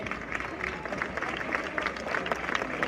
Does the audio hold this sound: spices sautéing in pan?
no